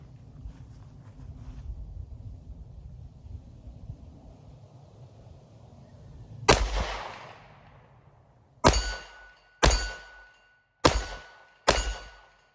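A Sig Sauer P365 X Macro Comp pistol fires five 9mm rounds, 124-grain jacketed hollow points, on an outdoor range: one sharp loud report, a pause, then four quick cracks, over steady wind noise.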